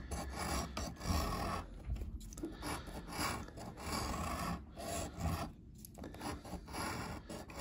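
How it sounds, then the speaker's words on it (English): A coin scratches the latex off a California Lottery 100X scratcher ticket, a close, steady dry rasping in repeated short strokes with brief pauses, no talking. "I'm using J Sarge Scratches coin today."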